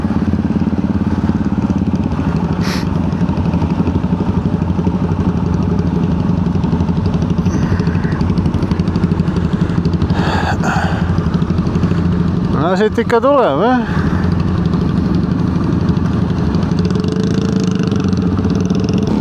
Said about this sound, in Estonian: oi, siin on igal pool tsikleid